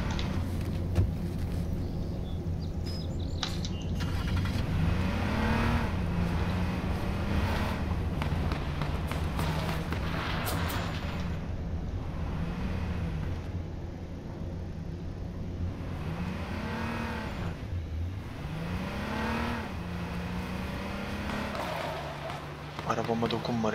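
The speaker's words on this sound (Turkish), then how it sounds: "Bu herhalde o polis arabası." A police car drives in the H1Z1 King of the Kill video game, its engine humming and revving with rising and falling pitch sweeps throughout, heard under near-constant talking.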